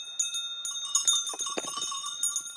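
Sheep grazing among the terraced Lavaux vineyards: small bells ring and tinkle in clear, sustained tones, mixed with light clicks and rustles from the flock close by.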